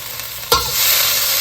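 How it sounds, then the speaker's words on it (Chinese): Onion and tomato stir-fried in a hot pan: a sudden sizzle as the vegetables go in, then a steady frying hiss that holds close and fairly loud, with no talking. "这几个都是需要稍微炒一下香味才会出来的"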